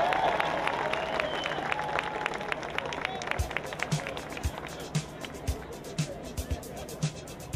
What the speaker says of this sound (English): Give another round of applause for Ms.